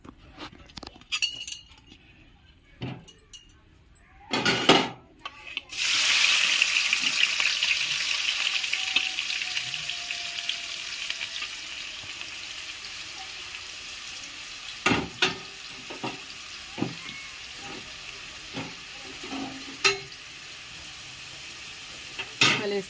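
Chopped onions hit hot oil in a home kitchen pan with a sudden loud sizzle that settles into a steady frying hiss, with sharp utensil clinks and stirring knocks scattered over it.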